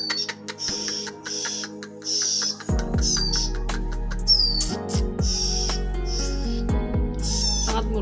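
A Ciblek Gunung chick being hand-fed gives repeated short, high chirps in bursts, close by, over low handling thumps and a steady background hum.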